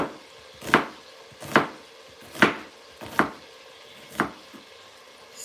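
A kitchen knife chops onions on a cutting board for a one-pot dish: five crisp, evenly spaced thuds ring out alone against a quiet room.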